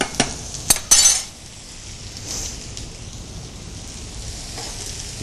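Chicken breast fries in butter in a pan, a soft continuous sizzle after a few sharp clinks of a utensil against the pan at the start.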